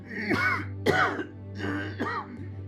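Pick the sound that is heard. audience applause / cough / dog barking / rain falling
cough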